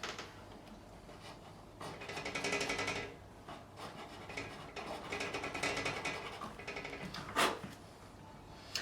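A file rasps in short, uneven strokes across the nut slots of a Fender American Pro Stratocaster during a setup, quiet and close, with occasional small knocks and no talking.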